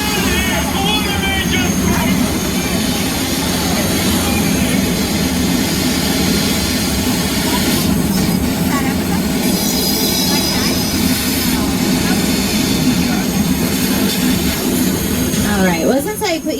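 Earthquake attraction effect on a subway set during a Universal Studios Hollywood backlot tour, a loud continuous rumbling roar with rattling and screeching, steady throughout with no clear talk.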